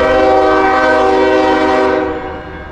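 CSX local freight train coming in from Jessup at Brunswick Junction, a loud sustained multi-tone horn blast close by that fades slightly at the end, with rumbling under it.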